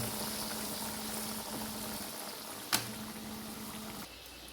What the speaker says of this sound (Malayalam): നല്ലതുപോലെ പൊരിച്ച് വരിക കേട്ടോ.